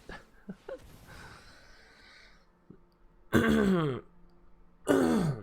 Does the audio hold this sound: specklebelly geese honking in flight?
no